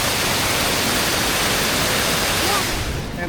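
Unfrozen stream water in winter rushes and gurgles continuously nearby, a loud, even flow of broadband noise that thins slightly at the end.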